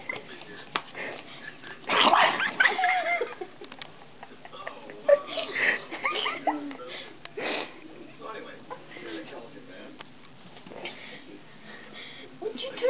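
Small dog making a mix of yips, squeaks and snuffling noises close by, with bursts of louder barking early on and people talking and laughing throughout.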